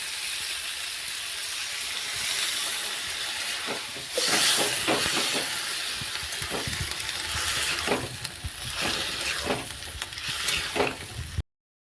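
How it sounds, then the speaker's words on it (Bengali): Water hits a hot pan of cauliflower and potato curry, raising a loud hissing, steamy sizzle that surges as it lands and keeps bubbling with scattered sputters and stirring knocks. "সবজিগুলো ভালোভাবে কষানো হয়ে গেছে, এবারে দিয়ে দিচ্ছি জল"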